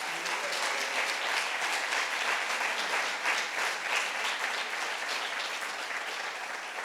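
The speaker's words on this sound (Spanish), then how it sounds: "yo me quiero darle un aplauso a mi familia" Steady, sustained applause from a large conference audience at a plenary session, dense clapping filling the whole stretch at an even, fairly loud level without letting up.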